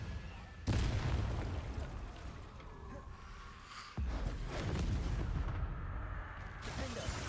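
A Confringo blasting spell in a video game sets off two sudden booming explosions, the first just under a second in and the second near four seconds, each followed by a sustained rumbling burst amid game sound and speech.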